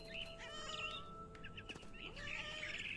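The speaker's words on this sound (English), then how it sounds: "I heard chirping outside my window. It was a barn swallow going back to her nest." A barn swallow chirps near its nest in the game What Remains of Edith Finch, with quick high twittering bursts at the start and end over quiet ambience.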